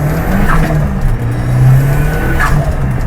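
An old, fast car's engine revs hard and close, with a steady low rumble swelling into two sharper throttle blips over about three seconds.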